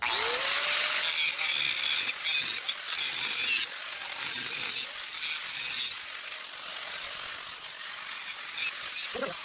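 A round rasp files by hand at mandrel-bent exhaust tubing for a kite buggy build, its strokes coming as repeated bright, scratchy rasps in a steady back-and-forth rhythm, close and fairly loud, with no talk.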